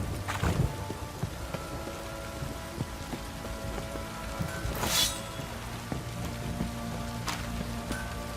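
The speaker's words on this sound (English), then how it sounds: "This downpour's a bastard, it is." Steady rain in the video game The Witcher 3 pours down with a constant hiss and patter of drops, punctuated by a few sharper splashes and low rumbling underneath.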